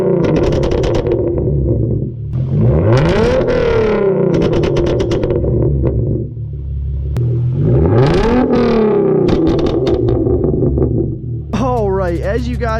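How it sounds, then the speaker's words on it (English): A Hyundai Genesis Coupe revs hard several times, each rise in engine pitch closing with crackling exhaust pops and bangs, loud and close, with a short pause between the rev bursts. "how to make your Genesis Coupe pop is going to be how to make it pop while revving it up"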